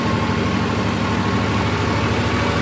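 A Swaraj 969 CRDi tractor engine runs steadily and close by, a dense low rumble with no clear rise or fall in revs, and no voices over it.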